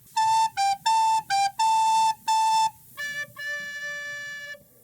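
A recorder plays the fourth line of a Christmas tune, six bright separate notes alternating between two pitches, then a quieter drop to lower tones with a final sustained low note, played solo and near.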